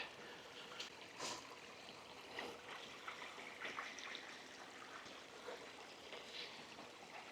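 A small waterfall cascades into a lake with a soft, steady rushing and trickling wash, faint and continuous with small splashy surges, and no voices over it.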